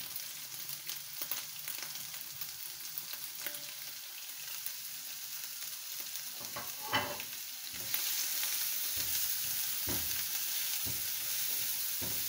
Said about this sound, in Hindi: प्याज को भी इतना सा सोते करना है, ब्राउन नहीं करना इसे।